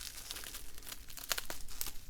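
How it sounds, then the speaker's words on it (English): Scissors snip and crinkle through plastic packaging around a boxed tarot and oracle deck, a quiet run of crisp cuts and rustles close by. "So we're just gonna use some scissors here."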